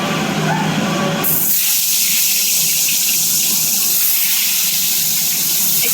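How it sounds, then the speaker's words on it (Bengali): Eggplant pieces drop into hot white oil and set off a loud, sustained frying hiss that bursts up and then keeps sizzling steadily and close throughout. "তেল গরম হয়েছে, দিয়ে দেন বেগুন।"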